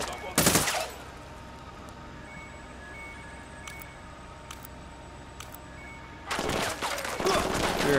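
Gunfire in the video game Ghost Recon Wildlands: a loud rapid burst at the start, a few sharp isolated shots over a quiet background, then a longer sustained volley at the end.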